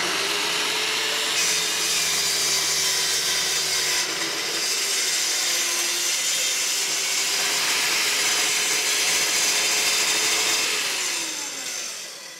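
A power saw set in a workbench converted into a table saw whines steadily through wood, a loud continuous cutting drone whose pitch dips and shifts, easing off at the end.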